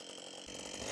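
Chainsaw limbing branches with the pushing chain (einlaufende Kette), a steady close engine whine that swells louder toward the end as the cut deepens.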